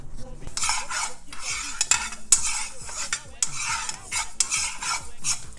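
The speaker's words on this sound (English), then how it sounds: "you just want to continue doing this, stirring it, move it around" Sesame seeds toasting in a pot on the stove as a spoon stirs them, a loud, close, rhythmic sweep of scraping and rattling with sharp metal clinks at each pass and light sizzling, with no talking.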